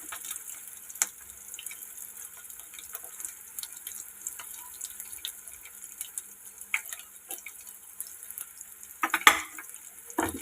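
Turmeric stirred into a hilsa and eggplant mixture for mustard hilsa in a pan, with soft scattered scraping and clinks over a faint sizzle, close by and fairly quiet, no talking.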